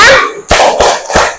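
A group of children does the "tepuk ayam" clapping chant in a classroom, chanting loudly and ending with three sharp, heavy claps spaced about a third of a second apart.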